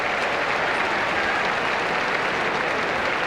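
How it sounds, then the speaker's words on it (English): A stadium crowd at a 1987 Winfield rugby league finals match applauds an injured player being stretchered off, with dense, continuous clapping that holds at an even, fairly loud level throughout. "Good round of applause, and we're back with the action."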